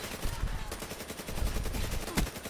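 Rapid automatic gunfire bursts from a Call of Duty: Black Ops III match, dense overlapping shots with loud cracks, steady and close throughout.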